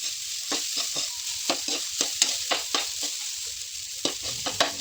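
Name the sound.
rice frying and stirring in pan for garlic fried rice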